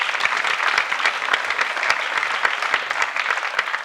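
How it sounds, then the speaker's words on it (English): A round of audience applause for the volunteers at an award show, steady and crowded clapping from many hands for a few seconds. "a big round of applause for the volunteers"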